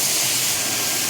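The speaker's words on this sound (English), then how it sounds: "Beautiful sizzle on that, but definitely not cooking too quickly" Meat sizzling on a pellet grill for Korean BBQ, a continuous dense hiss and crackle, close and steady, with no one speaking.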